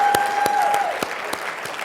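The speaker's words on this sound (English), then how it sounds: "Give yourselves a big round of applause, you guys." An audience breaks into applause at a live motivational talk: dense, steady clapping that fills the room throughout, close and fairly loud, with a few sharper individual claps standing out.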